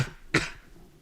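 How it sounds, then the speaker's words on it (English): A single short cough, close and fairly loud, followed by quiet. "Man, I got a cough."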